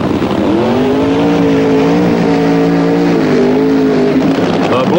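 A Funny Car drag racer does a long, smoky burnout at the Gatornationals, its engine roaring loud and sustained with a steady, heavy tone and a slight pitch rise toward the end.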